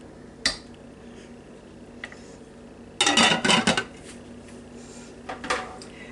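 Lid set down on a crock pot of cube steak, giving a sharp ceramic-and-glass clatter in a short burst of knocks, with a few lighter clinks before and after in a quiet kitchen.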